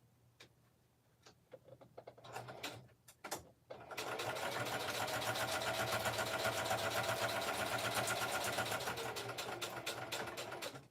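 A sewing machine stitches through a handmade mixed-media card, starting with a few short bursts and clicks before settling into a steady, loud, close mechanical whir that runs on for several seconds.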